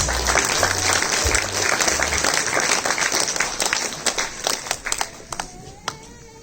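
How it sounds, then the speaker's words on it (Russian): Audience applause at an anniversary concert of an ensemble: a large crowd claps loudly and steadily, the dense clapping thinning into scattered claps toward the end, with no talking. "Эти аплодисменты и сцена ваша, Валерий Медигариевич."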